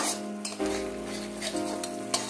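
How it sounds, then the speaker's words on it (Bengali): Mustard and poppy seed paste fries in an oiled pan over medium heat, a steady soft sizzle under repeated clinks and scrapes of a spoon stirring against the pan. "মিডিয়াম আছে মিনিট খানেক ভেজে নিচ্ছি"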